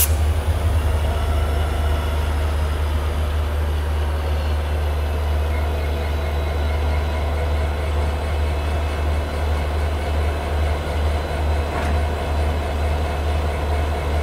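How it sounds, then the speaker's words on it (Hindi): An EMD WDG4 diesel goods locomotive coupled to a passenger train in India idles with a steady, deep engine rumble and constant low hum, loud and close, with no talking over it. "ये लग चुका है डीजल लोकोमोटिव हमारी ट्रेन में"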